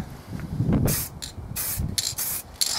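Short hissing bursts of Rust-Oleum chrome metallic spray paint applied as a top coat over primer, several brief close sprays separated by gaps, preceded by faint handling noise.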